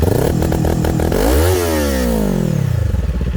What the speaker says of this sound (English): Now if I let go of the button, it'll come to full throttle.